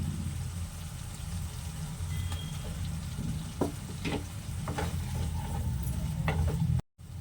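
Steady sizzling of paneer frying in a hot pan with occasional stirring clicks and scrapes, fairly loud and close, no voices.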